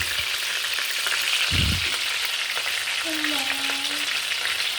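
Chicken fries hard in a restaurant pan with garlic and ginger, a loud continuous crackling sizzle that holds steady throughout, with one low thump and a faint voice under the hiss.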